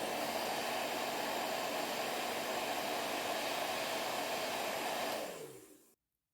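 A heat gun blows hot air onto the bottom edge of a Redmi Note 8 rear glass panel, a steady, close, hissing roar that runs evenly for about five seconds before winding down to silence.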